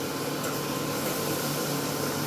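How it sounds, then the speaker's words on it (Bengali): A pot of fish boils on the stove with a steady, dense bubbling hiss that stays constant throughout, close and without talk. "মাছটা যে হারে ফুটছে আর কিছু বলার নাই।"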